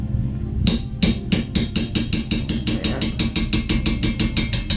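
A hammer taps out a rear-sight part on a Steyr M95 Mannlicher carbine, giving a quick, regular series of bright metallic strikes that rises to about twenty even blows, close and loud.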